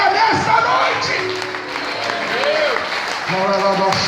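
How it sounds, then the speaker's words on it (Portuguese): Church congregation applauding during a worship service, loud close clapping and some cheering mixed with voices and tonal sounds. "Aplauda ele, aplauda ele, aplauda ele."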